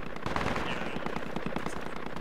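Heavy machine gun fire from an enemy HMG nest in the Project Reality game, Afghan insurgency setting: dense, rapid bursts of shots in a steady, continuous rattle, loud and close, with no talking.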